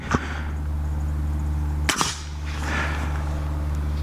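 A single suppressed 300 Blackout subsonic round fired from a bolt-action rifle, one muted crack near the two-second mark over a steady low hum outdoors, with a fainter snap at the very start.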